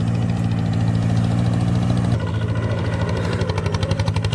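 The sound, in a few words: tractor engine running in rice paddy, shifted into second gear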